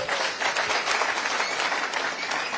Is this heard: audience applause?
yes